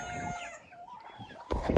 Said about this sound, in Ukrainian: Випустили курей, курчата, всі разом бігають.